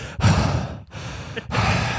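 A voice imitates heavy breathing with three long, loud, breathy exhalations in steady succession, close to the microphone.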